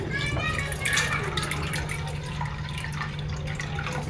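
About 1.5 litres of water poured into a cooking pan: a steady, close rush of splashing with a low hum beneath it.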